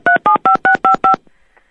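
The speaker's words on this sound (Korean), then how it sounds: "이 전화벨이 잘못 좀 눌린 것 같습니다" Telephone keypad buttons pressed by mistake during a live radio broadcast give six crisp, evenly spaced dialing tones in a row, loud and close, then near silence.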